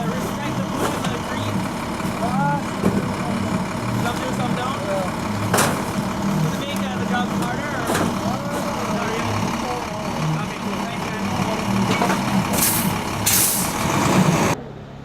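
A garbage truck idles steadily through a residential waste collection round, its engine a constant low rumble broken by several sharp hissing bursts of air brakes, with some talk faintly underneath.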